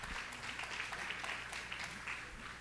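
A church congregation applauds Pastor Wagner during a worship service, a steady, dense clapping that fills the room for a few seconds without pause.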